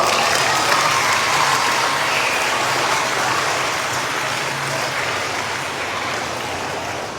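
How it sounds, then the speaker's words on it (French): Pupils at a school celebration for the feast of Saint Francis de Sales applaud loudly together, a dense, steady wash of clapping that holds for several seconds and slowly tapers off. "je vous demande de vous applaudir fortement."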